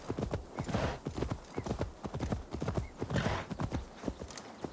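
Horse hooves clop in fast, regular beats in Assassin's Creed Valhalla, Siege of Paris DLC, loud and close with a brief whinny-like tone in the mix, the galloping rhythm continuing throughout without speech.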